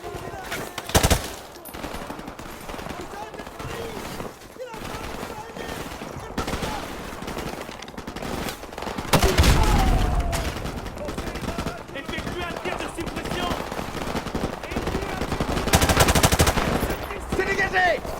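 Gunfire and machine-gun bursts from the Call of Duty Modern Warfare 4 remastered story campaign, with loud volleys around the one- and nine-second marks and near sixteen seconds over continuous battle noise, with voices talking throughout.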